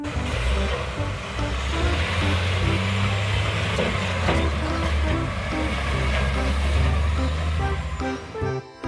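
A toy sand truck's sound effect plays as a steady, mid-loud engine-like drone with a rhythmic pulsing pattern for several seconds, then cuts off abruptly at the end.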